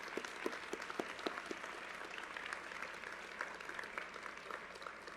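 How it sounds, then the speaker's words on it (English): A university ceremony audience gives faint, distant applause for committee members, with scattered claps over a steady wash of room noise. "And now we can applaud"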